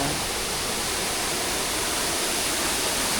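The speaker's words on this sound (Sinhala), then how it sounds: "ඒක විශාල දියැලක්." A large waterfall at a hidden camping spot in Kaluga roars as a dense, steady wash of falling water, loud and continuous with no voices.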